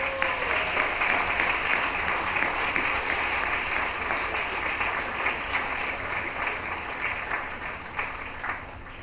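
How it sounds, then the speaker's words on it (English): Sustained audience applause at a science communication competition event, a dense wash of many hands clapping that stays strong before gradually easing slightly toward the end. "Applause, please"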